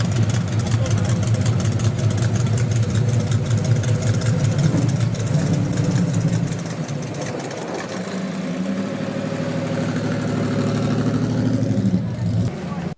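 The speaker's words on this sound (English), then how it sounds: "that 8-cylinder Javelin will get the old heart pumping" An AMC Javelin's 8-cylinder engine runs at an antique and classic car show, giving a steady, deep rumble close by with a slight dip partway through and voices talking over it.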